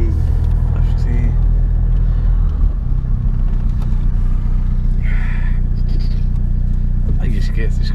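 Deep, rumbling engine of a Seat Ibiza 6L Cupra running and revving close by, with people talking over it.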